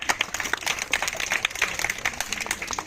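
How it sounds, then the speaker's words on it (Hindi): At an outdoor street show with a snake charmer and magician, a gathered crowd claps at a fairly distant, uneven patter, soft and brief, with no voices over it. "ताली बजा दो धर्म के नाम से"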